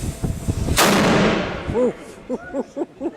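A historic muzzle-loading cannon fires a single loud, sharp blast during a fort gun demonstration, followed by a long rumbling decay while a voice talks before and after.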